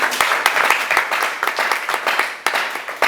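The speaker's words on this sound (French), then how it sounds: "on applaudit pour eux." Audience applause at a church workshop on audacity and success, steady close clapping from a crowd that rises and falls in waves across the whole stretch, with a fresh surge near the end.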